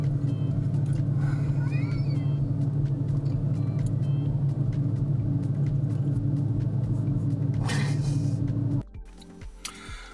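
A Porsche 997 911 drives along a road, its engine and tyre rumble a steady, loud drone heard from inside the cabin, before the noise suddenly drops away near the end, leaving quieter rumbling.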